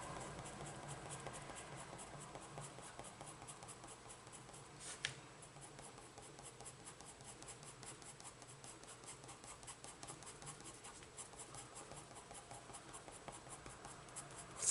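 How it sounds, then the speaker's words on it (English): Faint, continuous scratching of a coloured pencil shading on paper, soft and close, with distant traffic hum beneath. "I love the sound of pencils on paper."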